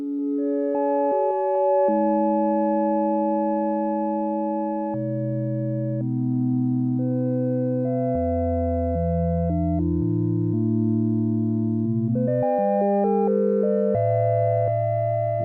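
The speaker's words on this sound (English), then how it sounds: "what's really cool here is this sine wave" Pure sine oscillator tones from a Yamaha CS-50 analog synthesizer stepping through a melodic sequence of steady pitches, sustained and clean, with some low bass notes, playing alone throughout.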